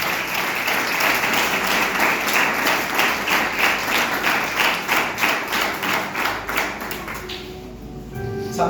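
Strong applause from a church congregation during a sermon, dense rhythmic clapping holding steady for several seconds before fading out near the end.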